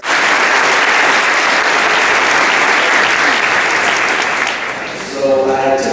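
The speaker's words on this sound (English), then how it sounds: "Can I please have a round of applause for your parents?" Audience at a school advisory speech giving a round of applause for parents, a loud, dense wash of clapping that holds steady and then tapers off as a voice begins speaking near the end.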